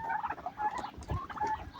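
Turkey hens on a small farm gobble repeatedly and close by, overlapping calls in a steady stream with no talk.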